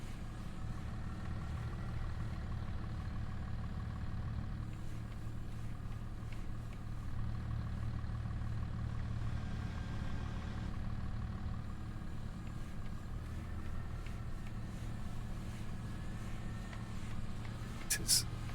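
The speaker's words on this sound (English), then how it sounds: "now make the tractor follow through" A tractor engine in a logging roleplay video game on the Riverbend Springs map drones steadily and low throughout, a continuous heavy rumble with only small shifts in level and a brief click near the end.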